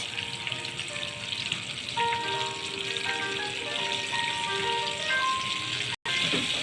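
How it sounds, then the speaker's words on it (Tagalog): Chicken drumsticks fry in moderately hot oil with a steady, close sizzle and crackle. A few faint tonal notes sit underneath, and the sound cuts out briefly near the end. "Kapag prito guys, dapat hindi masyadong mainit yung mantika."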